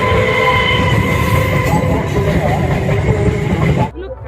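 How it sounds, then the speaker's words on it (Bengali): A train rumbles past on a nearby line in open countryside, loud and continuous with clattering wheels and a faint horn-like tone, then cuts off abruptly near the end; voices talk over it. "ট্রেন আসছে"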